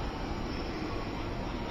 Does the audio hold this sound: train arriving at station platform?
yes